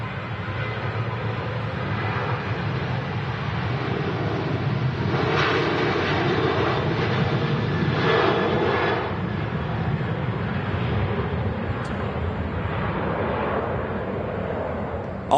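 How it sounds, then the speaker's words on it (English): A Ryanair airliner takes off at Manchester Airport: a steady, loud jet engine roar rumbles throughout and swells in the middle as the aircraft passes, then eases slightly toward the end. "Ryanair's now rolling to Malaga."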